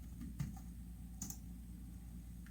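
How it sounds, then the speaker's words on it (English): Typing on a computer keyboard into a web browser: a few soft, scattered key clicks, quiet and close, over a low steady background hum. "You go to your browser, type in Kali"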